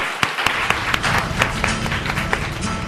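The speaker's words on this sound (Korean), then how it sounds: "하나님께 영광의 박수 올리겠습니다" Church congregation applauding during a Sunday worship service, a dense, lively round of many hands clapping close by with a few sharper individual claps standing out, continuing steadily throughout.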